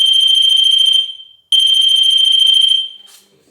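A hallway motion detector alarm sounds as two long, steady, high-pitched electronic tones, each lasting about a second with a short gap between them. Both tones are loud and close, with no voices.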